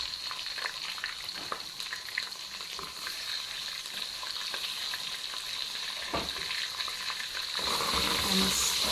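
Chopped onion hits hot oil in a pan for a Cameroonian roasted fish and plantain dish, giving a loud, steady sizzle that grows fuller and brighter toward the end, with occasional stirring scrapes and no talk.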